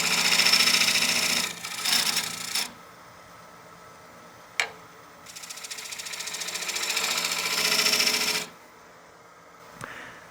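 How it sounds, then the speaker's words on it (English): Wood lathe spinning a bowl blank while a bowl gouge cuts a tenon for the chuck, a steady broadband cutting hiss in long sustained passes broken by short pauses and a sharp tap, with no talking. "I need to cut my tenon for my chuck, so I'm going to do that now."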